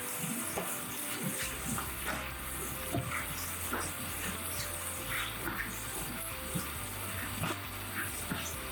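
Karaage-style Japanese fried chicken pieces crackling and spitting in hot oil, a busy, continuous fizz with scattered sharp pops, moderately close.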